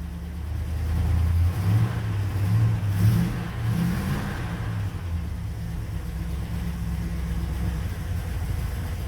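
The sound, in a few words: 1958 Plymouth Belvedere V8 engine running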